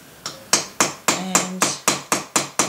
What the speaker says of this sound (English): my favourite riveting hammer, just pop this onto the metal block